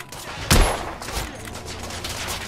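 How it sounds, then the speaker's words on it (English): Gunfire in the video game The Order: 1886, opening with a loud close blast and continuing as rapid rattling shots under a layer of battle noise. "I'm taking suppressing fire!"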